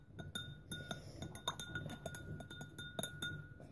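A spoon stirs a mixture with vinegar in a glass, making quiet, close, irregular clinks against the glass throughout, with no talking.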